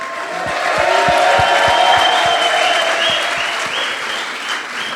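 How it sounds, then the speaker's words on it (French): A large audience at a fintech hackathon closing ceremony in Casablanca breaks into sustained, dense applause, loud and steady, swelling and then slowly easing, with a few sharper individual claps standing out. "Vous pouvez applaudir."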